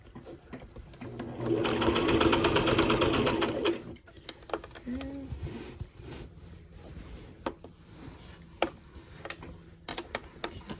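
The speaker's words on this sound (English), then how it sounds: "you don't want your needle on your machine to hit that, because that could break it" A sewing machine stitches a skirt in a rapid, steady run of about two seconds, loud and close, then stops, leaving small clicks and handling noises.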